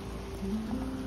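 Steady rain falls outdoors during a pergola move, making a continuous even hiss with a faint low hum running underneath and no talking.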